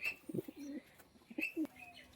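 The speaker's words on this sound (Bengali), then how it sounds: "পায়রা দুটো প্রচণ্ড অ্যাগ্রেসিভ খুবই ছটফটে" A pair of restless, aggressive pigeons gives soft, low cooing calls in short bursts, with a few brief higher chirps between them, all fairly quiet and close.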